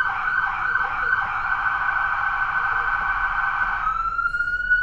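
A loud, steady wailing police siren on a 2022 Chevrolet police pursuit vehicle sounds up close and continuous, shifting its tone near the end.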